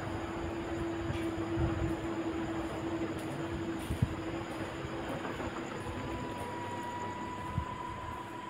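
A train stands idle at a quiet railway station, giving off a steady low mechanical hum with a faint tonal whine, a few soft clunks, and no voices nearby.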